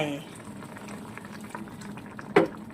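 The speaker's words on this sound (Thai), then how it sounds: "ให้มันเดือดอีกหน่อยนะจ๊ะ ให้มันสุกดีๆ" Thai chicken offal curry simmering in a pot, a soft steady bubbling with a brief voice at the start and a sudden clatter near the end.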